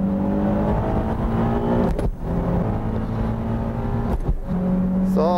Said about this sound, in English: The Z is rocketing out of the corner.